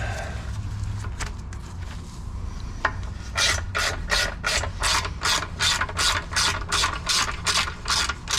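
After a few seconds of quiet shuffling, a ratchet wrench works a long transmission bolt loose on a 2001 Miata 6-speed, with a quick, even run of close, sharp clicking strokes.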